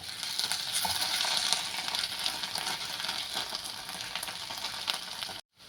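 Ginger-garlic paste hits sautéing green chillies in a hot pan for paneer bhurji, setting off a loud, close, crackling sizzle with stirring that holds steady, then cuts off abruptly near the end.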